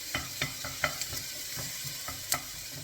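A spoonful of garlic frying in a pan for Thai red chicken curry, soft steady sizzle under irregular spoon scrapes and taps as it is stirred, close and quiet, no talking.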